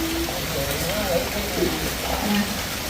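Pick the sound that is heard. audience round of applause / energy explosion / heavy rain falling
heavy rain falling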